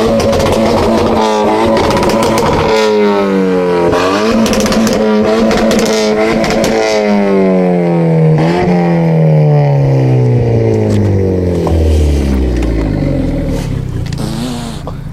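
A Renault Clio RS Trophy Stage 1 tuned to 260 hp revs hard and loud, climbing through several gear changes in repeated rising sweeps before the engine note drops and settles into a lower drone.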